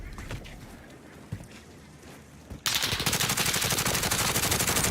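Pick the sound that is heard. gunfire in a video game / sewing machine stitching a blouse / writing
gunfire in a video game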